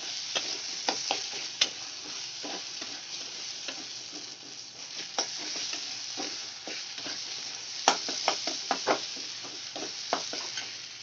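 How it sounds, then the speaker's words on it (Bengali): Onions fry in a pan until golden brown, a steady close sizzle with repeated sharp spatula scrapes and stirring taps, and no talking. "একটু টাইম নিয়ে ভেজে নিতে হবে পেঁয়াজটা আমার গোল্ডেন ব্রাউন হয়ে গেছে সুন্দর"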